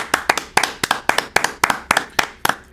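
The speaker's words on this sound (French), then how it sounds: "Un tonnerre d'applaudissements." A single pair of hands claps in a steady, even rhythm, about ten sharp, close, loud claps with brief gaps between them, and no crowd joins in.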